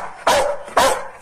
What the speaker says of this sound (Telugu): ఈ కుక్క అసలు ఇది అరవదు, ఇక అరుస్తుంది.